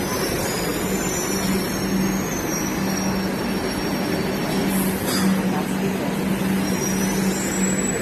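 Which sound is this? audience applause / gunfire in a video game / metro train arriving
metro train arriving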